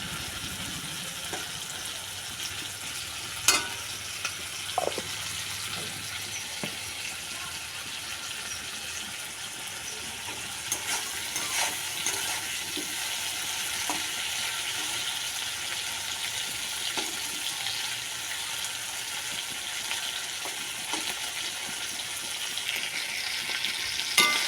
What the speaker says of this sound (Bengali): সুন্দর করে চিংড়ি মাছটা ভেজে নিয়েছি, ভাজছি।